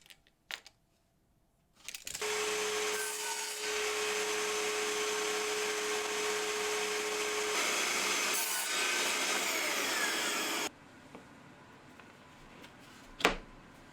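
A small piece of wood for an under-sink cabinet being sawn, with a continuous rasping cut lasting about eight seconds after a short pause, close and loud, followed by a quieter tail and a sharp knock near the end.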